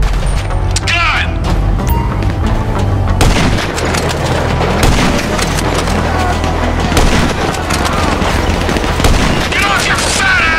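Dense, sustained gunfire in GTA V during a shootout to rescue Lamar, with booming shots and rapid automatic bursts layered continuously at close range, loud throughout.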